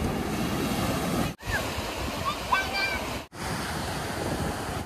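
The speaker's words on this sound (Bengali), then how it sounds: "মিরামার সমুদ্র সৈকত।" Continuous surf at Miramar beach in Goa, India, a steady broad wash of breaking waves close by, with two brief dropouts and faint chirps mixed in.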